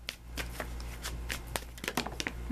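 Tarot cards being shuffled up close, a string of quick papery flicks and snaps at uneven intervals over a low steady hum, fairly quiet and without speech.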